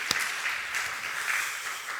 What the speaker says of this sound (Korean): 찬양대에게 격려의 박수를 올려드리겠습니다